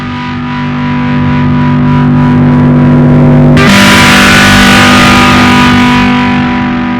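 Electric guitar played through a heavily distorted amp with a master volume and USB gain, a sustained loud chord that shifts abruptly partway and rings on, with no talking over it.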